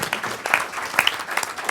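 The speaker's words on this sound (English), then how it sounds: "a round of applause for our panel today" Applause from the audience at a commercial real estate panel event on office and industrial property, a steady patter of clapping at moderate level with a few sharper individual claps standing out.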